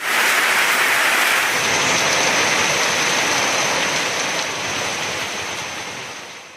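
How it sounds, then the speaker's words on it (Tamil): Light rain falling across Chennai at night, a steady broadband hiss of drops that stays loud and even for several seconds before gradually fading, with no voices. "நள்ளிரவு முதல் சென்னையின் பல்வேறு இடங்களில் லேசான மழை பெய்து வருகிறது"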